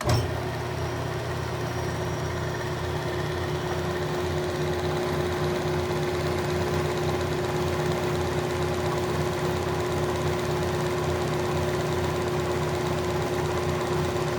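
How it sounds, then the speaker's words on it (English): A motor-driven wax buffing wheel polishes a turned wooden bottle stopper, giving a steady, close, continuous hum that stays even in loudness throughout, with no talking. "Then I have a dedicated wax buff."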